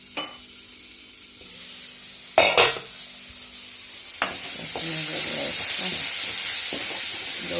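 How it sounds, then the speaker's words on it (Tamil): Ridge gourd and onions sautéing in a pan for chutney, a steady sizzle and hiss with stirring scrapes and a couple of sharp clatters early on, growing louder and fuller toward the end. "பீக்கங்காயை தனியாக போட்டு வதக்கணும்னா கொஞ்சம் லேட் ஆகுது வெங்காயத்தோடு போட்டோம்னா நல்லா வெந்துடுது"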